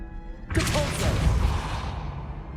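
A Depulso spell lands in Hogwarts Legacy with a sudden loud burst after a short quiet moment, then a rumbling, crackling impact that slowly fades away.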